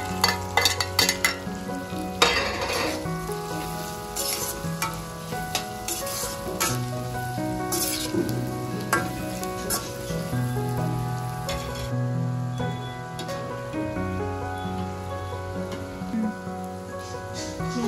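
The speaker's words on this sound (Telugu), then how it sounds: "ఈ చికెన్ పీస్ని ఇందులో వేసేస్తాను" Chicken pieces dropped into hot oil for chicken fried rice, setting off a loud, steady sizzle with crackling spatter and a few clanks of a utensil against the pan, continuing throughout with no talk.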